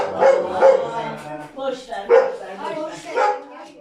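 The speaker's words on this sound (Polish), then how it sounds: "pies szczeka, jest młody, chce się przywitać" A young dog barks in several short, high yips and yaps, close by, with voices talking alongside.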